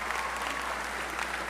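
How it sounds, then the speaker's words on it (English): Applause from a graduation ceremony audience at Pompano Beach High School, an even, sustained wash of clapping from a large crowd, moderately distant and steady throughout. "Applaud that, that's very good."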